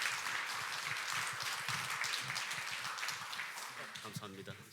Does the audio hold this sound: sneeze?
no